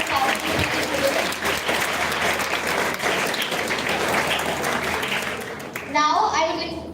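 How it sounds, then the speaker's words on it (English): Loud, steady applause from an audience at an inter-school declamation contest fills about six seconds, with a voice and a brief crowd stir rising near the end. "I request all of you to give a big round of applause to all the participants who participated today"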